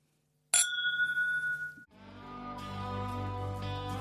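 Bourbon glasses clinking together in a toast, one bright ringing chink that decays over about a second, followed by soft outro music.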